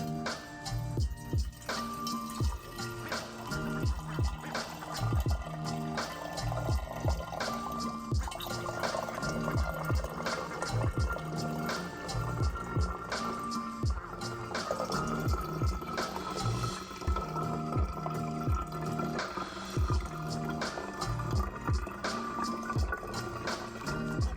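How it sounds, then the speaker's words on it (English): Iced coffee is poured into a pitcher in a kitchen, a steady liquid stream splashing and trickling continuously for about twenty-four seconds, close and fairly loud, with no talking. "I'm gonna try to pour this coffee in here without making a mess"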